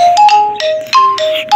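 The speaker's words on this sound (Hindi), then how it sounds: "अभी देखिए मेरे बाबा का फोन आ रहा है, कोई उठा नहीं रहा।" A mobile phone rings for an incoming call, a loud, close electronic ringtone of stepped melodic tones repeating in quick bursts.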